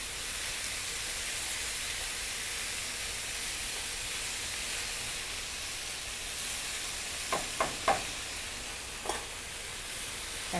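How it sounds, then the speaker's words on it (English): Vegetables sizzle while being stir-fried in a hot skillet, a steady, fairly soft frying hiss throughout, with a few brief clicks of stirring near the end and no talking. "The heat is still steaming highly under the skillet."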